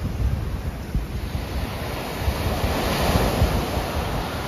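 Rough surf rolls steadily onto a beach in rain, with heavy wind buffeting the microphone, a constant close roar of breaking waves and no voices.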